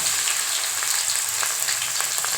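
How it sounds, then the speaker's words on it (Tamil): Steady crackling sizzle of onions frying in a hot pan, close and continuous with no talking. "வெங்காயம் நல்லா வதங்கட்டும்"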